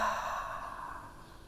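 A single long exhale through the mouth during a yoga session, a breathy close sigh that starts strong and fades gradually.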